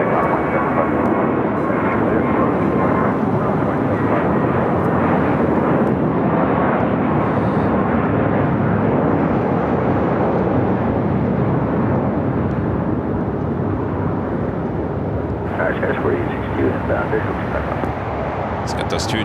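Airliner taking off at LAX on Thanksgiving Day, a loud, continuous jet engine roar filling the whole stretch without letting up.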